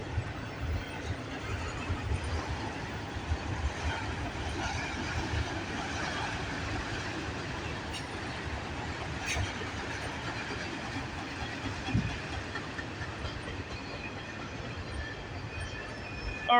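A CN freight train hauling auto racks rolls past in a steady rumble of wheels and wagons with faint squeals and clacks, distant and low, no talking.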